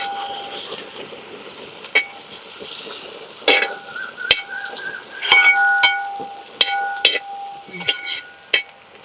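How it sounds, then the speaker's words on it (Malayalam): Onions and tomato frying in a pan for crab roast, a continuous loud sizzle with repeated sharp metallic scrapes and clinks of a spoon stirring against the pan. "ഇപ്പോൾ നമ്മുടെ സവാളയൊക്കെ ഒന്ന് ഫ്രൈ ആയി വന്നിട്ടുണ്ട്"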